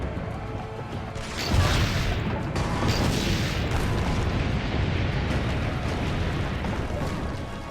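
Cannon fire in the Assassin's Creed Brotherhood video game: a loud boom near 1.5 seconds opens into a dense, continuous rumble of blasts and crashing battle noise that holds steady to the end.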